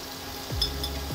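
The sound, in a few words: potatoes frying in a pan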